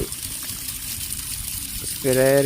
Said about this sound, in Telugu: ఈ విధంగా వాటర్ అనేది ఫుల్గా పోసుకొని